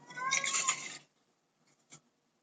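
A cat gives one clear, fairly close meow lasting about a second, followed by near silence and a faint short sound.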